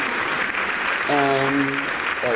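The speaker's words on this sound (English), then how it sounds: "We'll throw a little applause there again." A short, steady wash of applause runs throughout, with a brief sustained voice-like tone rising over the clapping partway through.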